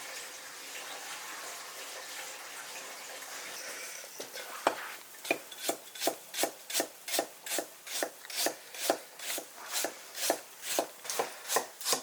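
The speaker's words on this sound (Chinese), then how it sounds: "切点生姜都行了" Fresh ginger is chopped on a board, a soft rubbing at first giving way to a steady run of about fifteen crisp, evenly spaced knife strokes, close and clear.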